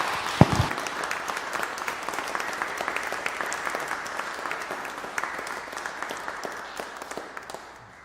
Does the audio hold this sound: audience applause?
yes